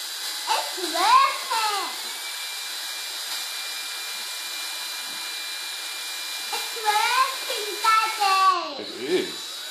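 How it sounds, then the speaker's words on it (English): A steady whirring electric drill runs throughout while twisting wire into a tow cable for a 1/35 scale model tank, with a person talking over it at the start and near the end. "We'll turn the drill on, and that's going to give us a nice tow cable twist."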